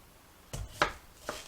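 Three separate chops of a big kitchen knife cutting potatoes into French fry strips, crisp thuds spaced roughly half a second apart, close and moderately loud.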